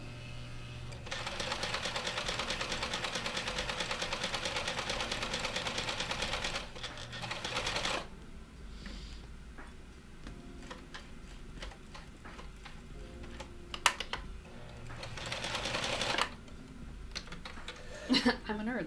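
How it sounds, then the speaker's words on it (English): A sewing machine runs steadily while sewing the shoulder seams of a garment, two long whirring stretches broken by quieter clicks and handling noise, close by. "I'm just gonna sew up the shoulder seams really quick"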